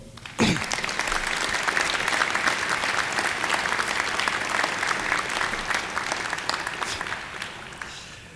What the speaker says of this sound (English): I want to extend a round of applause to these people